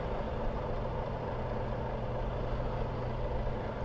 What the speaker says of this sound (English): So watch the lorry leaving.